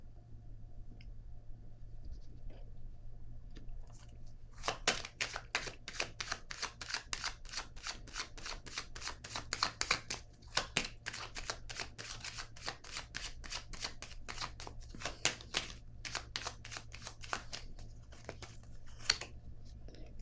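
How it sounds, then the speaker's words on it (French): Cards are handled and drawn from a deck in a series of sharp, rapid riffling clicks and snaps, close up over a quiet room hum. "Je vais piger une autre carte ici sur le sacrifice."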